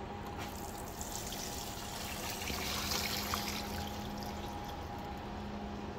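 Fuel pours from a removed fuel sender into a drain pan with a steady, quiet trickle and light splashing that continues throughout, faint and close.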